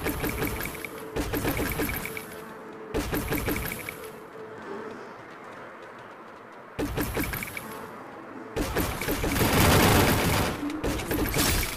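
Plasma gun fire in a video game crackles in dense rapid bursts, loud and close, broken by short quieter gaps before the firing picks up again, with no talking.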